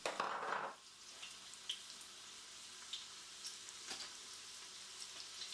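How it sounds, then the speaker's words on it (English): Onions frying in oil give off a faint, steady sizzle with soft scattered crackles after a brief louder burst at the start. "add in the sliced onions and begin to fry"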